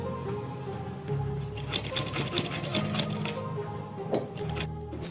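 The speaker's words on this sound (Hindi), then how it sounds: "गले के बिल्कुल किनारे पर हमें सिलाई लगानी है" A sewing machine stitches a strip along the edge of a kurti neckline in one close, rapid mechanical run of needle clatter, starting and stopping briefly near the end, with no talking.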